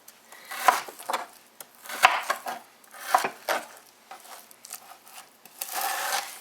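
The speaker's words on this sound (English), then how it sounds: "So we can easily chop it into cubes." Knife chopping food on a board, a series of crisp irregular thwacks and scrapes, close and fairly loud, with brief pauses between bursts and no talking.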